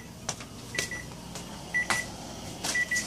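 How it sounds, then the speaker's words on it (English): Kitchen timer beeping in short bursts of high electronic tones, repeated several times over faint kitchen clatter, near and clear with no talking. "My timer is done."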